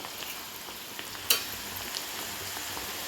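Lentils deep frying slowly in oil while being stirred, a faint steady sizzle with soft scraping and one brief clink near the middle, no voices.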